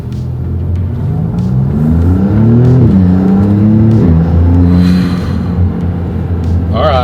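A 2022 Maserati MC20 accelerating hard in sport mode, its engine rising in pitch and roaring loud from inside the cabin, with a brief dip at a gear change and a person talking faintly underneath.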